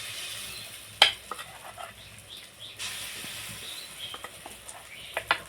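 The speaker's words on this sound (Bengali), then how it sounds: "তেলটা গরম হয়ে গেছে, বড়াগুলো ভাজবো।" Masoor dal fritters fry in hot mustard oil in a wok, giving a soft, continuous sizzle with a few sharper spoon clinks and scrapes, quiet and close.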